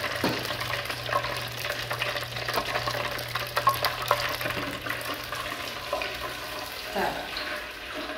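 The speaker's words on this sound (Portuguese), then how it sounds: "E segue fritando." Hot roll sushi crackles and sizzles steadily in hot frying oil nearby, with occasional louder pops and a faint background hum throughout.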